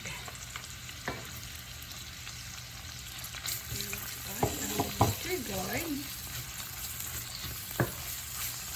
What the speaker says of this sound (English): we have to add our bitter gourd